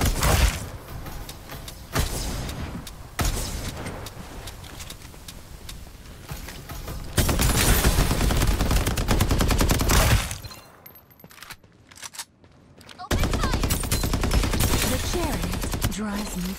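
Dense, loud bursts of automatic gunfire in the Farlight 84 battle game, sustained for long stretches with short lulls between volleys and faint voices underneath.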